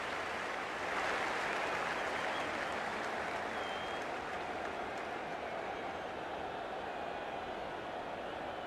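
Stadium crowd roaring at a rugby league kickoff, Bulldogs versus Panthers: a dense, steady wash of cheering and applause, loud and continuous throughout with no clear breaks.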